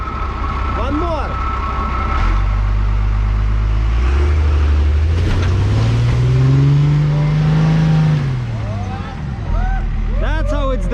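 Off-road vehicle engine revving hard under throttle on a snowy night trail, rising to a loud sustained roar mid-clip then dropping off, with people talking over it.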